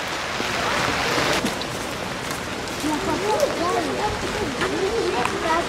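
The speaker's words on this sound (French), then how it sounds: "Il pleut." Rain falls steadily on an outdoor surface as a soft continuous patter, while children and adults talk nearby throughout.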